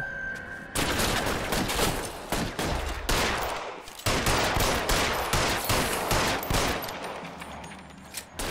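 Shotgun fire during a police shootout in the video game L.A. Noire: a dense, sustained barrage of loud overlapping shots and blasts running almost the whole time, with only brief gaps.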